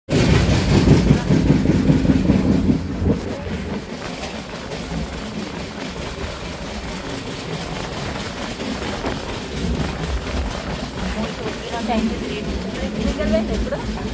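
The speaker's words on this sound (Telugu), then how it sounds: "మేమైతే ట్రైన్ ఎక్కినాం." A moving passenger train rattles and rumbles along the rails throughout, a continuous close-up clatter with people talking over it.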